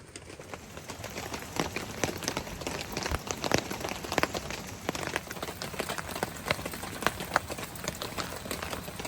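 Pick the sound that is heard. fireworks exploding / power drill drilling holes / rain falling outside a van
rain falling outside a van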